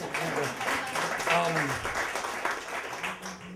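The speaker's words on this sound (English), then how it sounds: "I want to give yourselves a round of applause" An audience at a storytelling slam applauds warmly, a steady wash of clapping running under a voice talking over it at moderate volume.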